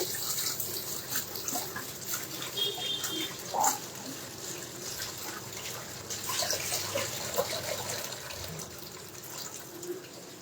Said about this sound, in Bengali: ধনে পাতাটা একটু ধুয়ে